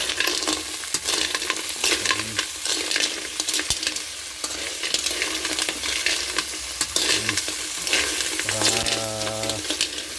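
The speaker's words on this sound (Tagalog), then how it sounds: "halo-haloin natin mga idol" Kinhason shellfish and vegetables stirred in a hot frying pan, steady sizzling and frying with scraping and clacking of the utensil against the pan throughout, close and fairly loud, with no talking.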